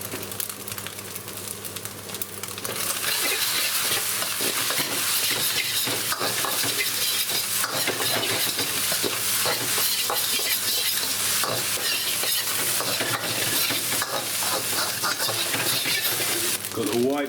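Eggs frying and being stirred with rice in a hot wok, a steady loud sizzle with scraping stir strokes running throughout after a quieter opening couple of seconds.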